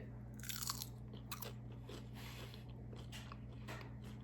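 Crunchy bites and chewing of homemade carnivore cheese crackers, like goldfish-style Cheez-Its, in a run of close, crisp crunches over a steady low hum.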